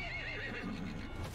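A horse in Metal Gear Solid V: The Phantom Pain gives a short, close, wavering whinny that slides down in pitch, with faint hoof clops underneath and no voices.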